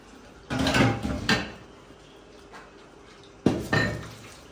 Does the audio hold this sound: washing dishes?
yes